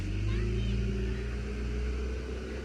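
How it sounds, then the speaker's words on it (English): A farm tractor drones steadily in the background, a low, continuous engine rumble that stays even throughout. "ignore the tractor in the background"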